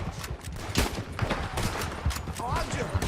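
Bursts of gunfire crack in Red Dead Redemption 2 during a rope-bridge shootout, rapid overlapping shots mixed with shouting voices and a busy game soundtrack.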